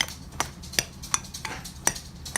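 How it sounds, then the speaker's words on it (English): A spoon works a thick nut bar mixture of pea protein and vanilla in a bowl, giving a handful of sharp, irregular clinks and scrapes up close over a soft, steady shuffle. "I'm now going to mix all of this together and see what kind of consistency it is"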